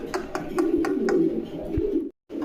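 Lotan pigeons at a pigeon farm give soft, close, repeated throaty coos in a quick pulsing rhythm. The cooing stops for a moment near the end, then resumes.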